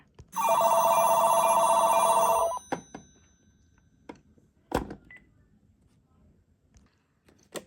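Landline telephone ringing with an electronic warble for about two seconds, loud and close, followed by a few faint clicks and knocks.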